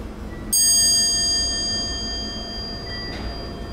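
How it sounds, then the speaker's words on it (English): A Westinghouse hydraulic elevator's bell chime rings once with a sharp bright strike and a long ringing decay, followed by a softer second tone near the end against a low hum. "I'm gonna sample that bell chime."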